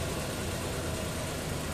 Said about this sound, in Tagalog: Maganda na rin yung tunog na makina.